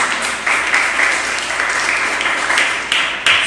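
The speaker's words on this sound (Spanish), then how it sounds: "Denle el aplauso al Señor." A church congregation applauds during a sermon. The clapping is lively and close, rising and falling in short surges, with some voices mixed in.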